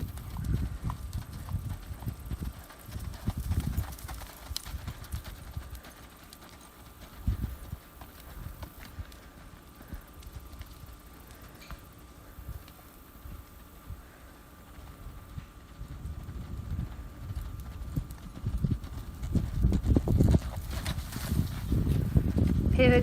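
A horse lopes and then comes back down to a slower lope, its muffled hoofbeats thudding in loose rhythmic clusters. The hoofbeats are quieter mid-clip and grow louder toward the end, heard from a distance.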